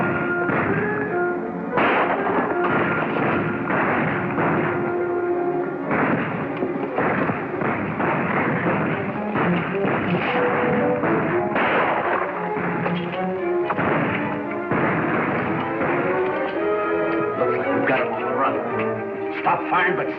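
Gunfire crackles through a shootout in a 1937 western film, repeated shots and thuds spread across twenty seconds within a dense, continuous soundtrack that stays loud throughout.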